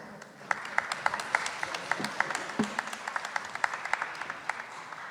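Light, scattered clapping from a small audience at a hackathon pitch and closing ceremony, distinct individual claps fairly near, with faint voices beneath.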